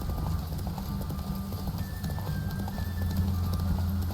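Galloping horse hooves in The Witcher 3, a fast repeating clip-clop beat with occasional snorting, loud and continuous over game ambience.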